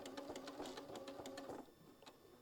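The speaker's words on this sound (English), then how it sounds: "we're just going to back tack right here" A sewing machine back-tacks a stitch while top-stitching a fabric puff pouch, running close and steady with a fast even needle rhythm for about a second and a half before slowing and stopping.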